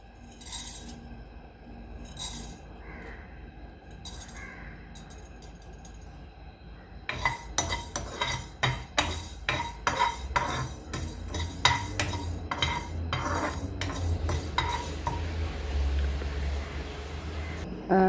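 Rice and grated coconut are stirred and dry-fried in a pan, giving sparse clinks at first and then rapid, repeated scraping and clattering of a spoon against the pan that carries on steadily.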